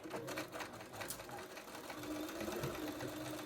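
A sewing machine stitches a straight seam on trousers in a short, steady run of rapid mechanical clatter, close by and fairly quiet, with no talking.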